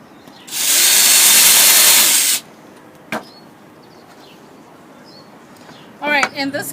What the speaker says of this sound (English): let's get to make some holes from the bottom and drill it in from the bottom of this.